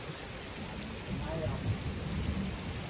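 Steady rain falls outside a rural Thai house at night, a soft continuous hiss with low rumbling patter that thickens slightly after the first second.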